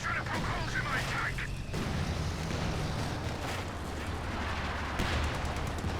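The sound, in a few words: Sturmovik aircraft strafe attack in video game Company of Heroes 2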